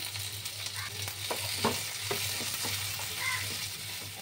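Chopped tomatoes stirred into a sizzling masoor dal fry tempering in a pan, a soft steady frying hiss with scattered scraping stir clicks, close and fairly quiet, no talk.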